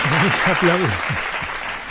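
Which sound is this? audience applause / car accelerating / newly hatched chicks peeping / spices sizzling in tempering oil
audience applause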